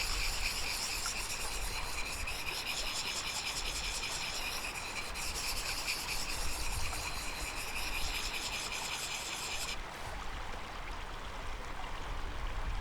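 A knife blade draws over a sharpening stone from a backcountry kit outdoors, working the burr in quick passes; a steady, close, dry rasping scrape runs the whole time and thins out near the end.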